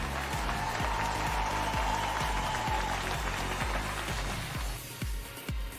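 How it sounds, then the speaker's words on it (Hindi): Audience applause at a DXN business gathering, steady crowd clapping filling the room, with a regular thumping beat underneath throughout. "आप जहां भी हैं, इनके लिए जोरदार तालियां बजाइए"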